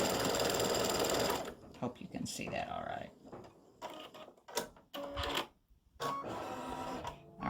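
An embroidery sewing machine stitches a snowman design, its loud steady whir running in bursts broken by short pauses and clunks as it moves to a new section.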